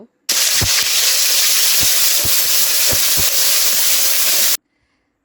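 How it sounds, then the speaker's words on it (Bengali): Ground spice paste frying in soybean oil in a wok, a loud, steady close-up sizzle with faint scraping stir strokes, then stopping abruptly into near silence. "চুলায় কড়াই বসিয়ে তাতে পরিমাণ মতো সয়াবিন তেল দিয়ে বেটে রাখা মশলাটা দিয়ে দিব"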